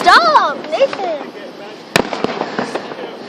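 Fireworks exploding outdoors at a backyard display among friends, with a sharp loud blast near the middle followed by smaller crackling pops, while children and adults talk and shout excitedly throughout.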